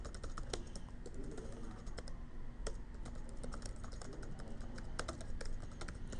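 Steady computer keyboard typing while filling in a form, with continuous soft clicks and occasional louder keystrokes over a constant hiss of background noise.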